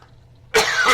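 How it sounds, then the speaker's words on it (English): A single sharp cough bursts out close and loud after a near-silent pause, a harsh broadband throat sound lasting about half a second. "Damn cough, I wish it would go away."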